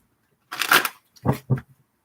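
A deck of tarot cards is shuffled by hand in a quiet room: one longer riffling burst, then two short snappy bursts, each close and crisp, with silence between them and no talking.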